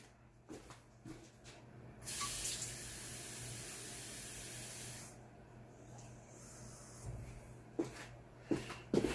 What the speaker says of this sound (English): So I will go fill this with tap water.